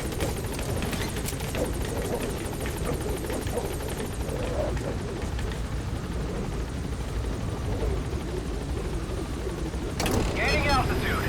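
Pequod helicopter taking off in Metal Gear Solid V, a steady loud rotor and engine roar that swells near the end, with voices talking over it.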